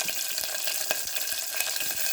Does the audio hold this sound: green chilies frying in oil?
yes